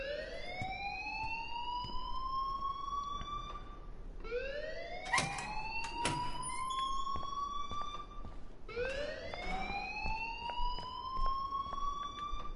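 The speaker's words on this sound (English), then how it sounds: "please turn off that alarm" Wailing alarm in the video game Life is Strange, a rising siren-like sweep repeating three times at a steady pace, loud and continuous with no talk over it.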